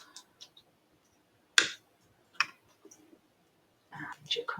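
Scissors cutting a small piece of mummy cloth for a papercraft project: a few close, crisp snips spaced about a second apart, with faint rustling, soft handling noise and quiet murmuring near the end.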